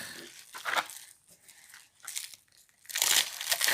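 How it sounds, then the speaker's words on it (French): Washed spinach leaves are cut for an omelette, giving close crinkly, crunching bursts in short uneven clusters with quieter gaps between, ending in a louder stretch of rustling. "Maintenant, je vais couper les épinards"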